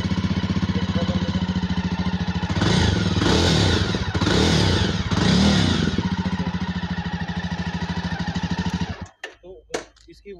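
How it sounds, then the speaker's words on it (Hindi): A Jawa motorcycle engine idles at a high initial rpm just after starting, a close, loud, steady thumping beat that swells for a few seconds midway and cuts off near the end, followed by scattered handling noises. "अभी जैसे इसका इनिशियल इग्निशन देंगे तो जी थोड़ा आरपीएम हाई रहता है"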